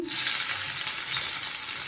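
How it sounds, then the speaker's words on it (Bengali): Green chilies sizzle steadily in hot oil, a close, continuous crackling hiss with no talking. "প্রথমে আমি লঙ্কা দিলাম, লঙ্কাটা একটু ভাজা ভাজা করবো।"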